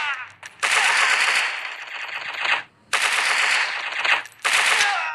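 Loud rapid automatic gunfire from a shooting video game comes in three long bursts separated by short pauses, close and dominant with no talk over it.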